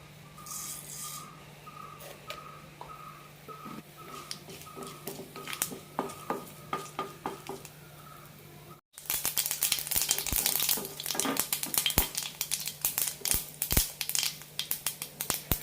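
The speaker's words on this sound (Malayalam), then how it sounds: "കടുക് പൊട്ടിക്കഴിയുമ്പോൾ സവാള ഇടാം" Mustard seeds in hot coconut oil in a pan with quiet popping and crackling, followed by a sudden louder burst of sharp spluttering pops and hissing.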